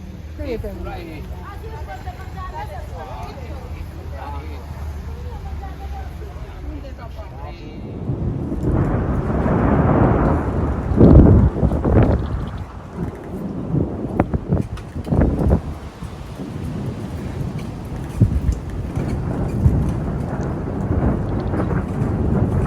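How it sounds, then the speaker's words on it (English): A violent thunderstorm passes over Positano, with low rolling thunder and gusting wind and rain that surge in after a quieter opening and then stay loud and rumbling to the end. "This violent storm passed over town"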